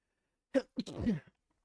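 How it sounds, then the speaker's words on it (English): A single quiet sneeze with a short breathy lead-in, in an otherwise silent room. "I'm going to sneeze again."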